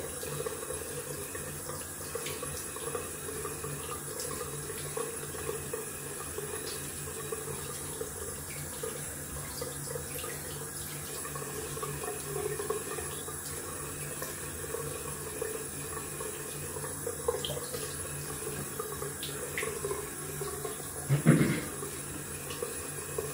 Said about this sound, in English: We're gonna rinse off.